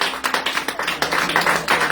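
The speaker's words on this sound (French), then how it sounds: "Applaudissez le Seigneur, alléluia." A church congregation claps for the Lord: sharp, regular hand claps keep a steady rhythmic beat over a reverberant room, loud and continuous for the whole stretch.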